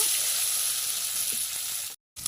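Banana stem sizzling in a pan with salt, turmeric and sugar, a continuous even frying hiss with faint stirring, cutting out briefly near the end.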